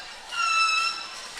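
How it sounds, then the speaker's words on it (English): An air horn sounds in a high school gym during a students-versus-teachers March Madness basketball game: one sustained, bright, buzzy blast of about half a second, fairly loud over faint crowd murmur. "Don't know where that air horn's coming from."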